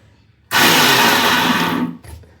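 A mixer grinder grinds ginger in a loud, steady whir that runs for about a second and a half, cuts off abruptly, then gives one short final burst.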